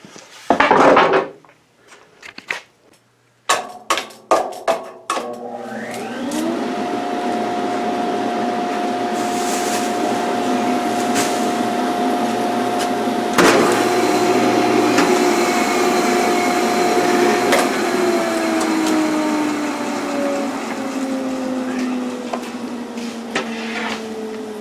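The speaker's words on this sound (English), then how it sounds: "good enough to run through the planer." A thickness planer, the shop tool used to build a monitor stand, starts up and feeds a wooden board through, giving a loud, steady whine with a droning tone that drops as the cut finishes. Sharp knocks and handling clatter come before it, and no one speaks.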